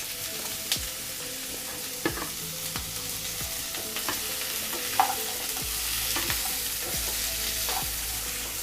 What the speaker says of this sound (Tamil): இப்போ முள்ளங்கியை நல்லா வதக்கி எடுக்கணும்.